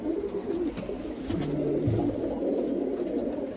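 A pigeon coos low and continuously close by, its throaty rolling notes steady against a faint ambient hum.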